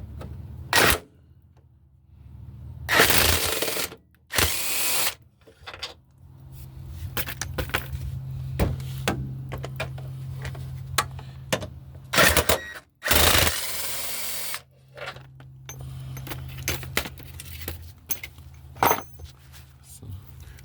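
Two 15mm bolts come off an engine mount under a 1997 Dodge Stratus 2.4L, heard as clicky ratcheting and metallic clinks in bursts, loud and close, with tool handling between.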